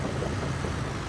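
An excavator engine in Construction Simulator gives a steady, dense diesel drone, running continuously at even loudness with no break.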